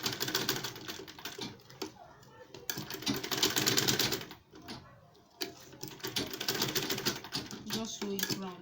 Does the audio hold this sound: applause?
no